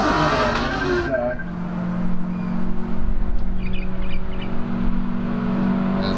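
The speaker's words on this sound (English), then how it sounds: "As we look at the 1600 Datsun now making its way into the hairpin, driven by Kyle Johnson." A Datsun 1600 race car at a lakeside hillclimb revs hard on approach to the hairpin, its engine note rising and then dropping into a steadier, more distant drone.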